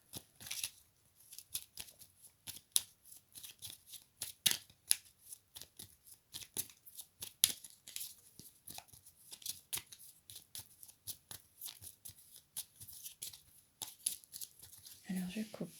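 A deck of tarot cards is shuffled and cut, giving many faint crisp flicks and snaps in uneven bursts, quiet and close, with soft talking at times.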